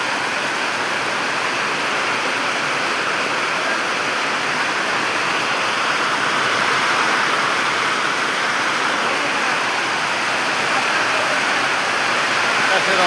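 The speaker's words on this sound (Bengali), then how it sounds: "মৃদু মৃদু বাতাসের সাথে বৃষ্টি হচ্ছে" Heavy rain pours steadily in strong wind over a flooded market area, a dense, even hiss that stays loud and unbroken throughout.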